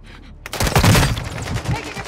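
Gunfire in Warzone 2.0 during a Resurgence match: a loud, dense burst of shots and impacts after a quiet start, mixed with game effects and a voice.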